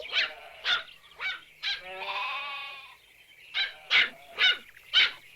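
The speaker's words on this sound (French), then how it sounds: "Pourquoi tu aboies?" A dog barks and yelps repeatedly, close by, in short separate bursts with one longer drawn-out whine in the middle.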